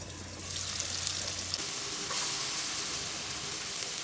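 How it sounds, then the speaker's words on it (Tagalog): Tomato sautéing in a pan after garlic for a shrimp and bottle gourd dish gives a steady, fairly loud sizzle and crackle that continues throughout, with no talking. "After ng bawang, isinunod ko ng iginisa itong kamatis."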